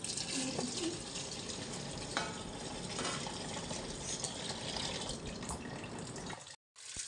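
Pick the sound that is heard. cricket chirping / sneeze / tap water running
tap water running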